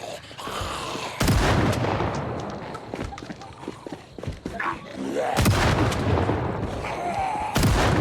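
Shotgun blasts in Project Zomboid boom loudly three times, with a rough gap of a few seconds between them, and the grainy in-game noise keeps going in between.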